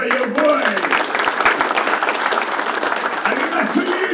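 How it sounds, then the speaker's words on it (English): A Clemson Tigers football team claps for a speaker in a room, a dense burst of applause mixed with shouting voices and cheers throughout. "Guys, be clapping for your boy."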